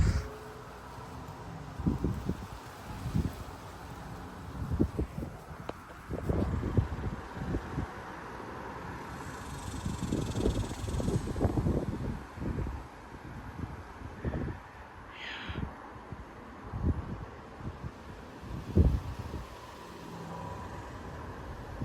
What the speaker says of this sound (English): Today's maximum gust is 30 miles per hour.